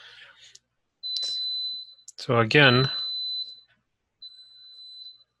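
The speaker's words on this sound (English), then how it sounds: "sorry about the beeping." Electronic high-pitched beeps like a smoke detector, sustained tones sounding three times across the clip, with someone speaking briefly between them.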